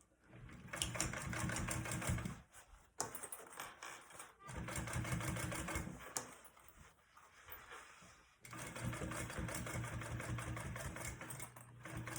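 A sewing machine runs in several close bursts of rapid stitching while top stitching a bowler bag, with short pauses between runs and a person talking quietly between them.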